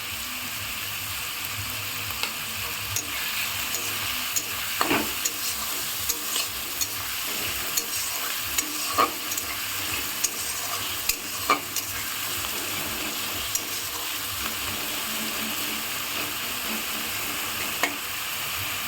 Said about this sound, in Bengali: আমি এই পেঁয়াজগুলোকে লাল লাল করে ভেজে নেব।